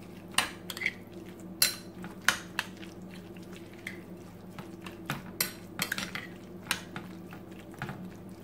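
A spoon stirs mayonnaise into tuna sandwich filling in a bowl, making irregular light clinks and scrapes against the dish at close range, with soft wet mixing sounds between taps.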